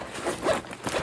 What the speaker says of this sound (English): I also like that it's a one-handed zip.